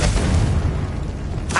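A Confringo spell detonates in a video game, a short, dense booming blast with a rumbling low body and a brief whooshing flare at the end.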